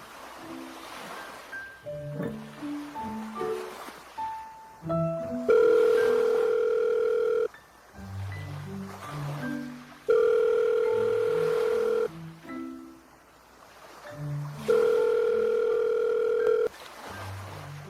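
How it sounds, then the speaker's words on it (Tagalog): A cellphone call plays its ringing tone while waiting for an answer: a repeating melodic ringback pattern cycles about three times, loud and close, with steady sustained notes between shorter tones. "kunin ko lang yung cellphone ko. Tawagan ko siya."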